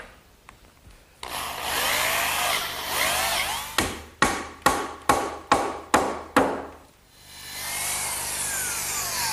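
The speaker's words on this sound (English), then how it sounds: "Now I'm just going to drill a hole down through the top" A drill whirs steadily for a couple of seconds boring a hole in a wooden garden bench, then about seven sharp, evenly spaced knocks ring out up close.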